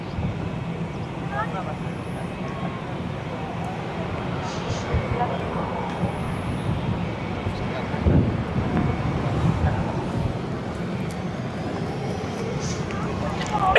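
An 18-year-old Ryanair Boeing 737-8 departs Barcelona for Rome Fiumicino, a continuous jet rumble mixed with gusting wind across the microphone, a voice talking over it.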